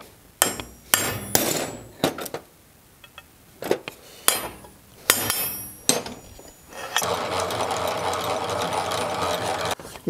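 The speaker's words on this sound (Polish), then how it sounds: "Oj, bo mi ukręcisz wiertło" A drill bores into thick 12 mm steel plate for a bumper, producing a series of sharp, intermittent metallic bursts followed by a steady, continuous grinding whir.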